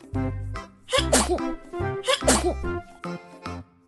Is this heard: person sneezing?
yes